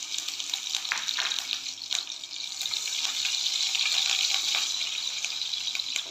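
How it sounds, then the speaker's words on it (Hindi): Green chillies sizzle in hot desi ghee, a steady bright frying hiss with soft crackles and pops that swells slightly midway, close and alone without talk. "अब इसके अंदर मैं हरी मिर्चें डाल दूँगी।"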